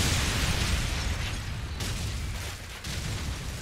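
A grenade blast in Call of Duty 4 lands as a dense, rumbling roar that fills the scene, its heavy low boom decaying over a few seconds with no voices over it.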